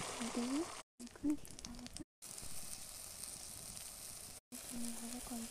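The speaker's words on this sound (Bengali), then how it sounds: "এবার আমরা ডিম ভাজাটা কড়াই দিয়ে দেবো।" An egg fries in hot oil in a wok, giving a steady, close crackling sizzle, broken by short gaps, with a voice sounding briefly over it.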